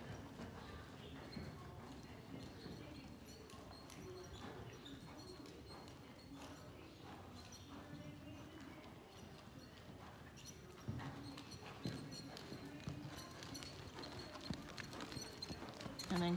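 A 15.2-hand Morgan mare trots in an arena, her hoofbeats sounding as a steady, fairly quiet clip-clop, with pigeons cooing and a person speaking in the background.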